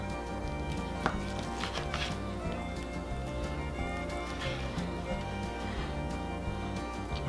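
A knife cuts through a grilled chicken breast cooked on a Weber kettle grill, making repeated tapping strokes against a board over a steady background hum, with no talk.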